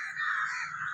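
A crow gives a single drawn-out caw, fairly close and clear over a quiet background.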